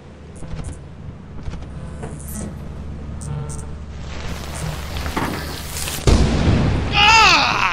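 Lightning strike in the video game Lethal Company: scattered small clicks and rumbles build to a sudden loud crackling boom near the end, followed by a sustained sizzling rumble.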